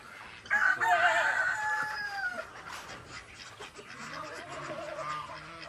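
A native rooster crows loudly nearby on a duck and goose farm, one long drawn-out call followed by fainter fowl clucking in the background.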